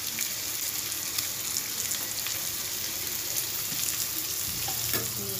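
Mutton masala for a Bengali kosha gravy frying in a pan, a continuous crackling sizzle with soft stirring scrapes throughout, close and even, no voices.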